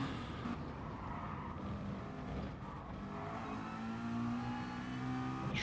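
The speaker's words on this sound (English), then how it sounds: "Train of cars coming through there cleanly." Race cars in a live GT-style racing game series at Tokyo Outer circuit, a train of engines droning and revving steadily as they pass close together, continuous loud motor noise with rising pitch near the end.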